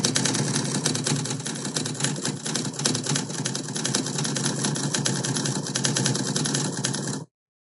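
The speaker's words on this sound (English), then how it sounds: "that's how we can add an audio sound effect to the typing effect" Rapid, steady typewriter key clatter fills the whole stretch as a close, dense sound effect for on-screen typing, with no talk, stopping abruptly at the end.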